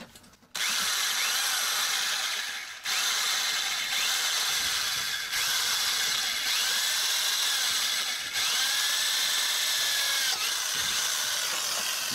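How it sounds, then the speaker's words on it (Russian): A Soviet electric drill runs nonstop at close range with a loud, rattling, whining drone, pitted against a German copper cable. The sound holds steady apart from brief dips and restarts. "Эта дрель точно способна меня накрутить на себя"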